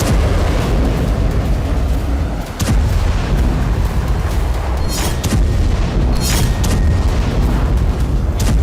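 Tank and artillery bombardment in Gaza: continuous heavy rumbling barrage with repeated booms and sharp blasts, loud and dense throughout with no pauses.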